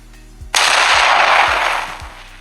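Explosion sound effect from the CapCut editing library: one sudden loud blast that rolls into a long, dense rumble and slowly fades over about two seconds, heard alone with no talking.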